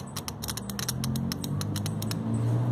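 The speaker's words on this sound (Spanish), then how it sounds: "Escuchen el clic." Sharp clicks in an irregular series, a Nissan Almera radiator fan relay snapping on and off close by over a steady low engine hum.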